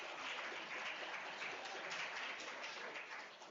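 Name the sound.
conference audience applause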